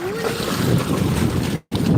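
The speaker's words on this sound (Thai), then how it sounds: "ลมแรงมากเลยค่ะ" Strong wind blows outdoors beside water where people are swimming, a loud broadband roar buffeting the microphone, cut by a brief dropout near the end, with a faint voice early on.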